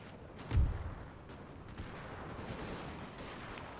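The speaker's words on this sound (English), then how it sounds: "We're going to soften them up a little bit by firing a few volleys towards them." Musket volley from infantry in the video game Napoleon Total War: one muffled, booming burst near the start, then a low, steady battlefield rumble with no voices.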